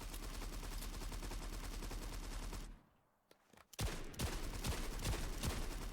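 Sustained rapid gunfire from an enemy in the Covenant mushroom harvest event questline video game, loud and continuous bursts that drop out briefly near the middle, then resume with sharp individual shots and renewed heavy fire.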